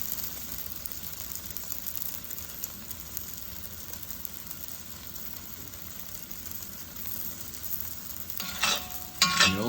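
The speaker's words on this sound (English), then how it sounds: "You hear that sizzle?" Green curry beef noodles with vegetables sizzle steadily in a hot pan as they are stir fried and pushed against the edges, a continuous close crackling hiss with a few louder scraping stirs near the end.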